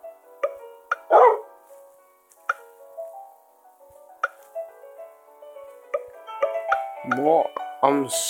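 Dog in the video game Whack the Burglar, giving a few short yelps and barks near the end among dripping and plopping game effects, with talk throughout.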